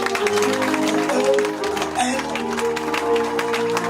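Church congregation applauding during an evening service: steady clapping mixed under prominent sustained musical or sung tones, continuing for several seconds at moderate loudness.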